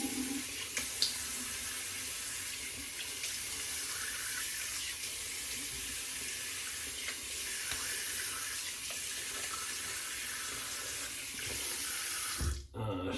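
Water running steadily from a tap into a sink while rinsing after a wet shave, a continuous close splashing flow that cuts off abruptly at the end.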